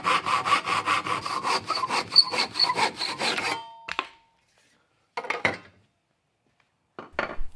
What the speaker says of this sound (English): I'm just opting to strike a line and use my handsaw here.